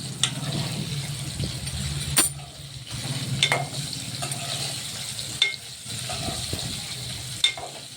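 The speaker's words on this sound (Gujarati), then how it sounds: "તો આપણા ભીંડાની તેલમાં નાખ્યા એટલે 5 મિનિટ થઈ ગઈ છે." Stuffed okra (bhinda) frying in oil in a Kathiyawadi-style pan, a close, constant sizzle with stirring scrapes and a few sharp clicks of the spoon against the pan.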